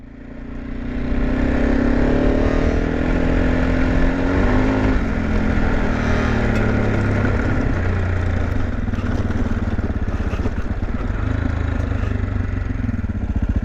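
A motorcycle engine on an outback road between Marree and William Creek, South Australia, rises as it draws near, then holds a loud, steady, close drone with some rattling clatter.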